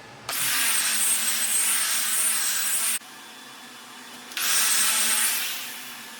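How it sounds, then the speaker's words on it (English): A wire wheel on a power tool scrubs steel clean in a fabrication shop, a loud close whirring grind in two long bursts separated by a quieter stretch, tapering off at the end. "Just using a wire wheel, same thing I use for stripping the paint"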